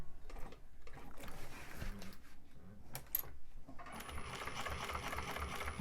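A sewing machine stitches a bag in bursts of rapid mechanical chattering, pausing between runs with soft handling noises, then a longer steady run, close and fairly quiet.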